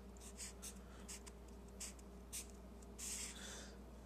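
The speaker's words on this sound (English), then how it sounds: "Okay, let me write that out here." A pen or marker writes out a physics equation for radians and rotation, giving several short scratchy strokes in bursts over a faint steady room hum, close and quiet, with no talking.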